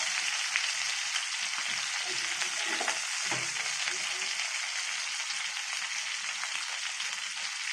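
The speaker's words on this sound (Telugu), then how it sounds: "చూడండి బాగా ఫ్రై అయింది." Valanki fish, fresh from the Godavari, frying in hot oil in a pan, a dense steady sizzle that runs loud and unbroken throughout, with faint stirring or turning sounds.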